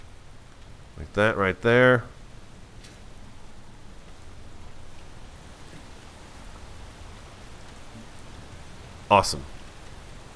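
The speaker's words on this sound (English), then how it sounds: "It would rain right now, just as we get started." Steady rain falls in the video game Space Engineers, a soft continuous hiss throughout, with someone speaking briefly over it near the start and once more near the end.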